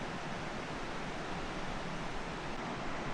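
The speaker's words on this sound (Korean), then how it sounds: "한탄강의 여울 소리가 마치 가마솥에서 물이 끓는 듯 웅장하고 생생해서" Continuous rushing of rapids on the Hantan River, South Korea, a broad even hiss and churn of water that holds steady without pause, moderately distant and alone.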